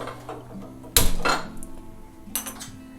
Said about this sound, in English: I'm gonna go ahead and start heating up the pan right now